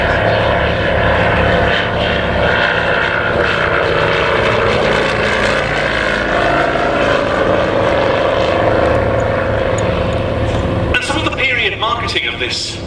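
A vintage aeroplane powered by a 75 horsepower Pobjoy engine drones overhead at an air show. The propeller hum is loud and steady, with a voice talking over it.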